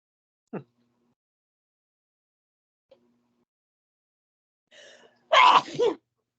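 A single sharp sneeze close by after long quiet, preceded by a faint sniff and a small intake of breath.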